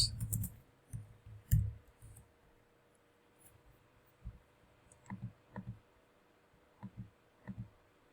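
Computer mouse clicks sound during accounting spreadsheet work, a few sharp clicks early on and then scattered, quieter clicks in small pairs and clusters across a near-silent background.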